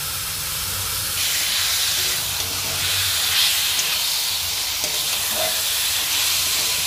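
Marinated chicken sizzles loudly in a hot pan over a high gas flame, a dense continuous hiss with occasional spits and crackles.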